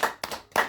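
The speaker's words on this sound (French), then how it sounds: "Est-ce qu'on peut acclamer pour le Seigneur?" A church congregation claps in praise of the Lord, two sharp, close bursts of handclaps in quick succession.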